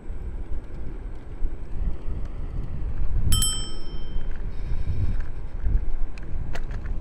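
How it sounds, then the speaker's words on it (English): A small bell on a Segway Ninebot KickScooter Max rings once, bright and close with several clear overtones, over steady wind rush while the scooter rolls through a neighborhood. "Little bell there to warn people you're coming."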